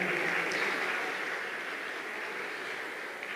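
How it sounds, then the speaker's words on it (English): Steady, fairly soft applause from an audience at a barristers' ball honoring scholarship recipients, a dense, even wash of clapping that holds throughout without voices. "Let's give a round of applause to them."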